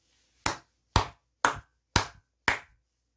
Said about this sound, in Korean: 너무나 대박인 소식이기 때문에 크게 박수 한번 치고 가도록 하겠습니다